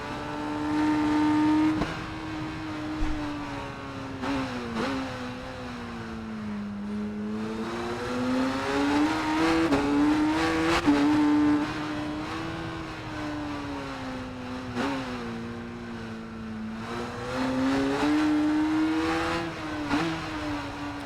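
A Kawasaki race motorcycle engine revs loudly and steadily for the whole stretch, its pitch rising and falling in repeated sweeps as the throttle opens and eases, with no talk over it.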